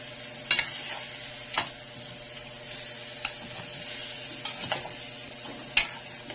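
Spoon stirring food with soy sauce in a pan, sharp scraping clicks at irregular intervals over a faint steady sizzle, close and fairly quiet.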